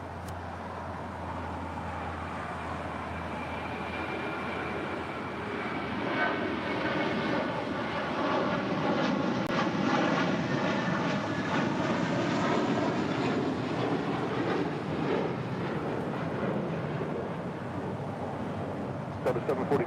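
A Boeing 777 departs on the runway, its engine roar building to a sustained, broad whine with rising tones before easing slightly; a voice speaks over parts of it.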